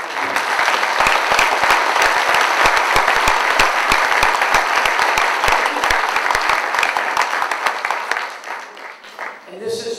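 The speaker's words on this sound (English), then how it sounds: "Join me in a round of applause for that." Sustained applause from a large crowd, dense steady clapping that holds for several seconds before thinning out near the end.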